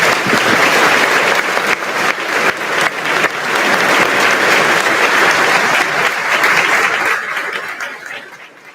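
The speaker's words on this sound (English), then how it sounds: "Let's give her a round of" Sustained applause from an audience at a middle school eighth grade recognition ceremony, loud and steady for several seconds with a little scattered laughter, then tapering off toward the end.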